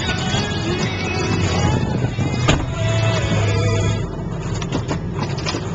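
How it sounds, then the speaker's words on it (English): A 7.3 liter diesel truck with 183,000 original miles on a test drive, a loud, steady engine drone heard from inside the cab, with a sharp click partway through and the pitch easing off near the end. "Let's go for a test drive."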